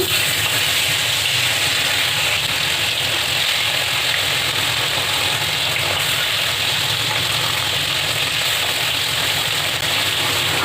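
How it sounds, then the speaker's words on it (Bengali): Koi fish frying in hot mustard oil in a wok on a rooftop, a loud, steady, close hiss of sizzling that holds unbroken throughout. "তেলটা ভালো করে গরম হয়ে গেছে এবার আমি মাছগুলো দিয়ে দিচ্ছি"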